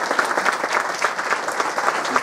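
An audience at a Central American Independence celebration in Queens, New York applauds, producing a steady, fairly loud patter of many hands clapping throughout.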